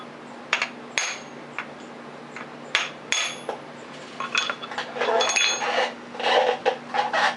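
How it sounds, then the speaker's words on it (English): Metal-on-metal hammer blows on an impact extension try to shock loose a stuck bolt on a weathered Honda CX500 motorcycle: a few sharp, ringing clanks spaced apart, then a busier run of clinks and scraping, close up over a steady hum. "I'm going to use this impact extension and try to shock that loose"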